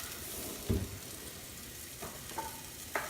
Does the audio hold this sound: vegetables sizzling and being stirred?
yes